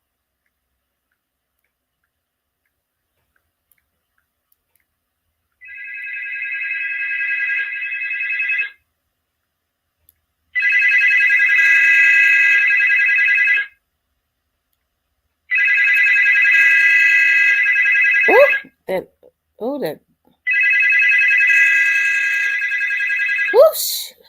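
A phone rings in four long electronic bursts with silent gaps between them, and a person speaks briefly during the pauses.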